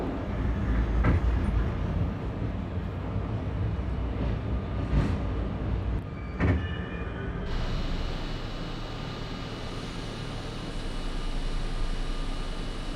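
An R32 F express subway train rumbles steadily along the track, a broad continuous roar punctuated by a few sharp clanks, shifting partway through to a smoother, slightly quieter hum with a high whine.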